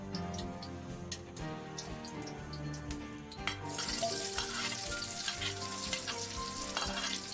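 Hot oil in a cleaned, heated wok gives a faint crackle that swells into a louder, brighter sizzle halfway through, with scattered ticking pops and no talk.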